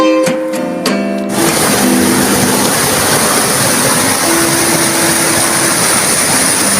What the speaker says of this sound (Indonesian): inilah air terjun Kerto Embo yang indah sekali sahabatku, yang berada di wilayah Kare Madiun